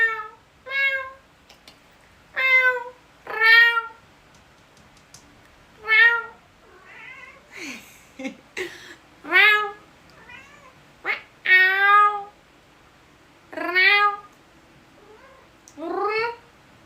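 A cat meows repeatedly and loudly close by, a series of drawn-out, rising and falling meows with brief pauses, alone without talk.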